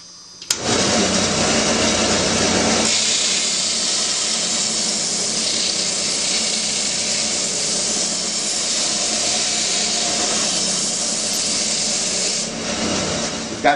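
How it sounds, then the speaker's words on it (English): Belt sander flattening one face of a glued wooden ring, a loud continuous abrasive whir that starts abruptly and runs steadily for many seconds before dropping away, close by with no talking. "I'm going to use a belt sander."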